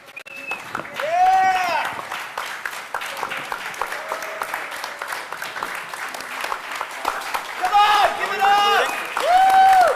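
Audience at a hacker conference panel and closing ceremony claps across a hall, a sustained mid-level patter of many hands with scattered cheers, while people talk through it over a public-address system.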